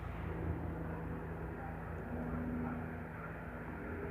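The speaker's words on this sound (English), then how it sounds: "It's a huge military helicopter." A steady low engine drone of a large military helicopter passing overhead, continuous and fairly distant, with a faint tonal hum throughout.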